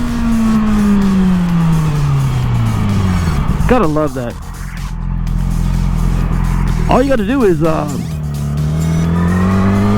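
A 2007 Yamaha R6 motorcycle with almost 40,000 miles idles and revs loud and close, its engine note climbing in two sharp bursts, with someone talking over it.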